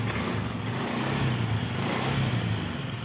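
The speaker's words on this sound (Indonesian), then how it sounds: "Kemudian kita engkol teman-teman" A carbureted Honda Beat scooter engine runs after being kick-started, a steady close idle with a slight rise and fall in its rumble over the few seconds.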